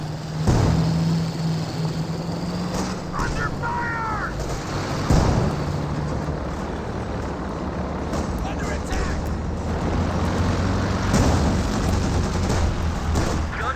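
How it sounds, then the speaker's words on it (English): A half-track fires bursts of shots at aircraft in a wartime strategy video game, with sharp gunfire cracks scattered over a steady battle din while someone commentates throughout. "Half-Track does fire some shots there onto the aircraft"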